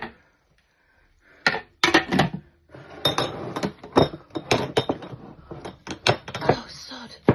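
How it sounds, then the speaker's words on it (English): A lid is set onto a cooking pot while making chilli, with several sharp clinks and clatters of metal and glass in quick succession, loud and close in a quiet kitchen. "We're going to put a lid on that."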